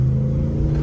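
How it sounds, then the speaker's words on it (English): A Hemi V8 engine revs and roars loudly up close in a short, deep, rumbling burst at an auto show. "Oh, that Hemi just roars."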